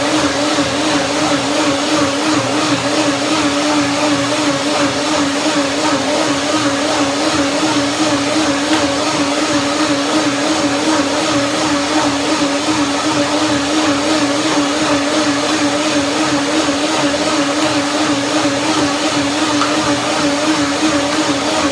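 A blender motor whirs steadily and loudly for the whole stretch, blending a chia, kale and banana smoothie, with a constant droning hum and no pauses.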